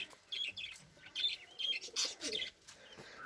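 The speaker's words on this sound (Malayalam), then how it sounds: "ലോ ബേർഡ്സ് നല്ല സൗണ്ടാണ് കേട്ടോ, അവരിങ്ങനെ സൗണ്ട് ഉണ്ടാക്കിക്കൊണ്ടിരിക്കുന്നു." Lovebirds chirping close by in quick, bright bursts of repeated tweets, with short gaps between calls and no voices.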